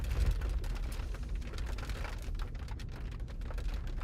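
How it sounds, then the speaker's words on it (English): Rain falling during a storm chase in southwest Iowa, with gusty wind of about 35 mph rumbling low beneath a steady patter that stays fairly quiet and continuous. "We're getting rain again."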